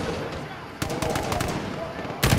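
Turret machine gun fire in the Modern Warfare video game, a rapid burst of shots starting partway in and continuing steadily, loud and close, with a heavier blast at the end.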